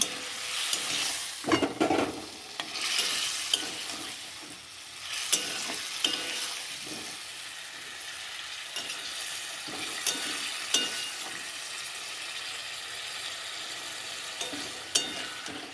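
Potato pieces being stir-fried in a pan for a Bengali fish curry give a steady oily sizzle, punctuated by intermittent stirring scrapes and clinks of the utensil against the pan.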